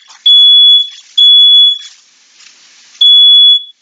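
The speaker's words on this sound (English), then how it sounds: "Smoke detector go off." Piercing high-pitched smoke alarm beeps, three long loud tones separated by short gaps, close by.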